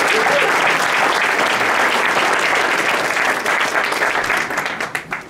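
Warm applause from an audience at a park district volunteer and patron reception, a dense sustained wash of many hands clapping that thins out and fades near the end.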